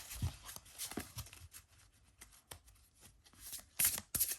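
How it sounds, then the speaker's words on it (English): A tarot card deck is shuffled by hand in quick, crisp riffling bursts with short pauses between them, close and fairly quiet, with no talking. "And I'll take and give it a bit of a shuffle."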